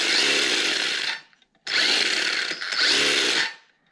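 Small cheap RC car's electric motor whining at high speed in two loud sustained bursts with a short gap between, close up and with no talk.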